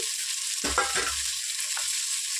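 Toor dal with koya thotakura and fenugreek greens fries in a pan, giving a faint steady hiss broken by a few low clanks and scrapes of stirring, nearby and without talk.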